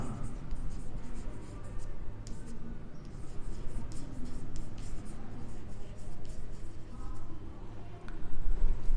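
Pen scratching steadily across paper as someone writes by hand, a continuous soft rasp of close strokes with brief pauses over a low room hum.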